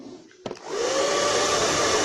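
A WAHL Professional hair dryer switches on after a brief click, its motor rising within half a second into a loud, steady broadband whoosh of blowing air that holds evenly to the end.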